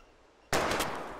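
A single gunshot fires in the video game Life is Strange, a loud sudden blast followed by a noisy ringing tail, with no talk over it.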